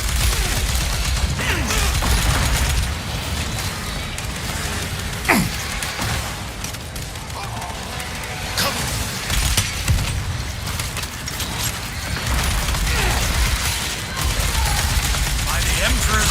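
Artillery fire in the Space Marine 2 video game, dense and loud, with booming impacts and crackling gunfire across the whole stretch and combat voices shouting over it.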